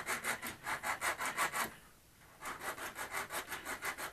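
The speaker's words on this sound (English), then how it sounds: "I'll just be using my diamond file to roughen up the metal a bit" A diamond file rasps back and forth across metal to roughen it and strip oxides, giving a close, steady rhythm of about a dozen strokes with a short pause partway through.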